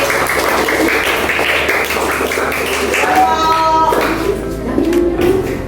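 A classroom of children clapping together, a burst of scattered applause mixed with young voices chattering and calling out.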